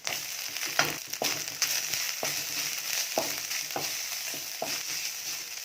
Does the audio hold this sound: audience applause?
no